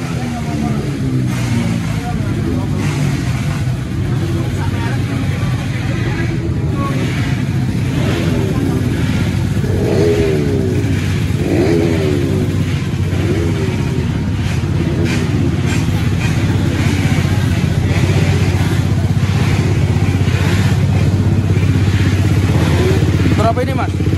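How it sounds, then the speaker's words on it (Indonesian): Honda CBR 600 motorcycle engine at a matic race paddock in Indonesia, running with a steady loud rumble throughout, under constant crowd noise and nearby talking. "Motor apa ini? CBR 600 mas."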